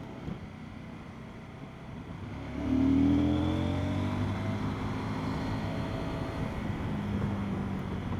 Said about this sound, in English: There's a huge induction roar when you open the throttle up.